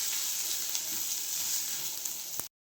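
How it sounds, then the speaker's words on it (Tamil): Masala sizzles and fries steadily in a pan for chickpea sambar, a bright continuous hiss with faint stirring, no talk, before cutting off abruptly near the end. "மசாலா சேர்த்து இது கொஞ்சம் நல்லா ஃப்ரை பண்ணிக்கலாம்"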